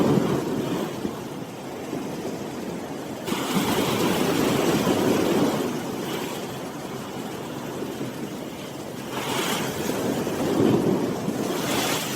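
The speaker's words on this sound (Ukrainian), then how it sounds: "Вітер відчувається досить сильно і здається, що він тільки посилюється з кожної хвилини." Strong gusting wind buffets the microphone on the beach at Torrevieja, Spain, while sea waves break and wash in a broad, rumbling roar that swells and eases in surges over several seconds, with no voices.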